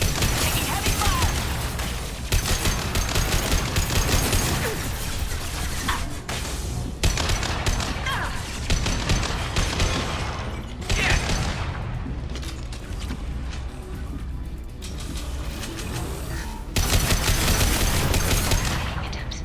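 Heavy gunfire in a Mass Effect 2 firefight comes in dense bursts and booms, loud and sustained with short lulls between volleys, no talk over it.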